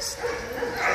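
A K9 dog during handler training yips and whimpers in short bursts, close by, while a handler talks over it.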